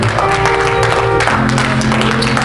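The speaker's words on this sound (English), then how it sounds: "Somebody ought to clap your hands for Jesus." A church congregation claps hands during a lively Sunday service, a dense, loud clatter running continuously under sustained tones and musical or vocal sound.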